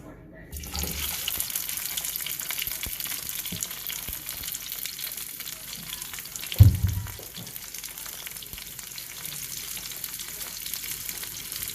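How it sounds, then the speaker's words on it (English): Crayfish with lemongrass and lime leaf stir-frying in a saucepan, a quiet steady sizzle with running-water noise, a single sharp clatter midway, and faint speech in the background. "I'm going to stir fry everything in this saucepan, and then I'm going to transfer it to this pot."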